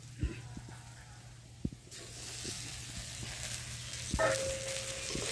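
Rita river fish frying in oil gives a soft hiss that swells into a steadier sizzle, with a few clinks and faint talk in the background.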